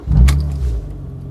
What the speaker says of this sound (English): BMW straight six, which I love, and then with the Miltech exhaust on it, really nice